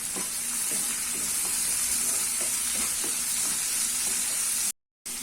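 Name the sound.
sautéing flattened rice upma with turmeric and salt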